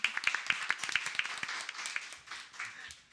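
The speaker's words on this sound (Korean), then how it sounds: "다 같이 박수 주시면서 맞이해 주시면 감사하겠습니다" A hall audience claps in welcome at a youth-activity program event, a dense patter of hand claps with some louder claps in the first second, then thinning into a softer spread of applause.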